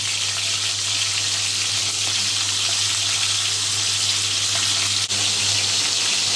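Hilsa fish heads frying in hot oil in a pan, a loud, steady sizzle and crackle that holds throughout, with a single brief knock near the end and no talking.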